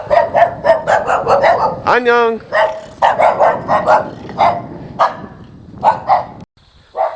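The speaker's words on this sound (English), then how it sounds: "you can hear the dogs barking still" Several dogs bark in rapid, repeated bursts at close to moderate distance in a neighborhood garden area in Gangwon-do, South Korea, with a short whine between the barking and a person speaking briefly.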